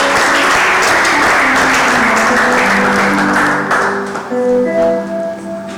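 A church congregation applauds loudly at a Pentecost service, dense clapping that carries through the clip while sustained instrumental tones rise underneath and the applause thins toward the end.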